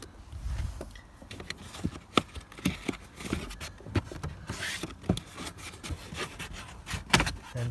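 A plastic interior trim piece under the glove box of an Audi A6 is worked loose by hand, giving close, faint scraping, rubbing and small clicking sounds in a quiet car interior.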